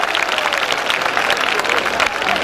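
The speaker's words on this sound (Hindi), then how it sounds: "जोरदार तालियों से स्वागत होना चाहिए।" Loud, dense applause from an audience at a school silver jubilee function fills the whole stretch as a steady wash of clapping with no pause.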